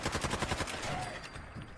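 Rapid automatic gunfire from a weapon fired from the hip in Fallout 4, a fast burst of evenly spaced shots that trails off into a dull rumble, fairly faint and without voices.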